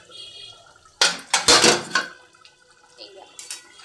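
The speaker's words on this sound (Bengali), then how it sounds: "চলো এবার ঢাকনা তুলে দেখে নিই।" A lid clanks and is lifted off a pot of fish cooking with garlic and black pepper, giving a short metallic rattle and scrape, then a softer knock or two.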